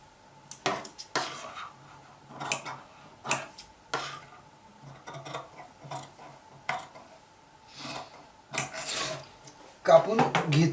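Scissors snipping through fabric while cutting the neckline of a safari collar jacket, a series of close, crisp cuts and rasps in irregular bursts with short pauses between them and no speech over them.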